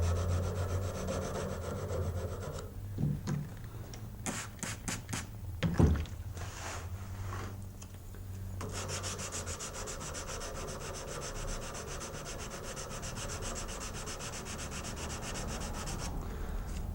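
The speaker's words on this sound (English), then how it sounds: "It's not a very fun area to sand" Sandpaper rubs by hand along a knife blade in steady back-and-forth strokes, a close rasping scrape that breaks into shorter, choppier passes midway before settling back into an even, continuous rhythm.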